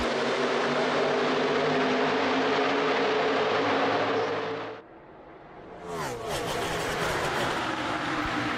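NASCAR stock cars roaring into a stop-motion race, a loud sustained engine drone that suddenly cuts out, leaves a short hush, then surges back as a whooshing pass-by.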